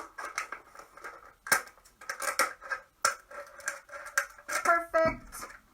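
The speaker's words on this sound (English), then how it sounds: "I'm just going to take my scissors, go the whole way around that water bottle." Scissors snipping the whole way around a plastic water bottle, a series of close, crisp cuts and crinkles of thin plastic in irregular short bursts with quiet gaps between.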